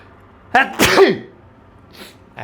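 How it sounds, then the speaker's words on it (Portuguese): A single loud sneeze with a sharp intake of breath beforehand, close to the microphone, followed by quiet and a faint rustle. "Lá vem espirrar."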